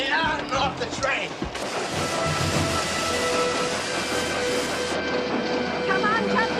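A train rumbles and clatters steadily with metallic rattling, and voices are faintly heard over the noise.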